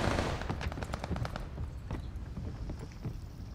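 Dense, rapid gunfire crackles through a Call of Duty Vanguard Control match, a steady loud barrage of overlapping shots with no talk over it.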